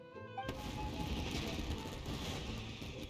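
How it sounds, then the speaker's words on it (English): Fireworks burst in the video game Genshin Impact, a sudden loud crack giving way to a dense crackling, rumbling barrage that continues steadily. "Yoimiya, this is turning into a bit of a fireworks display."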